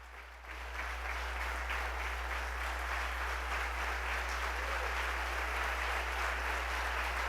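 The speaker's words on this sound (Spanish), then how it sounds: "Le recibimos con un aplauso." Church congregation applauding to welcome a guest speaker, a sustained, even wash of many hands clapping that swells in quickly and holds steady over a low constant hum.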